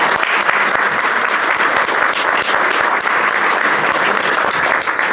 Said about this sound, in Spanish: Un aplauso para él, por favor, también.